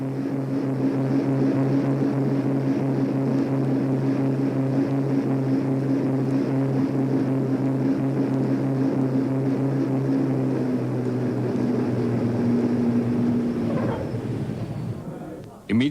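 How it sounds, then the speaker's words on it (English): A WW2 bomber's propeller engines drone loudly and steadily as it sinks onto the runway. The deep throbbing tone holds, then drops in pitch and fades near the end. "Thankfully, the big bomber sinks onto the runway."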